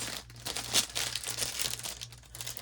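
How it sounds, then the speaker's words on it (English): Plastic packaging crinkles and rustles continuously and close up as a die kit is unboxed, with no voices. "I'm not going to say sorry for the crinkling because that's what's in the haul video"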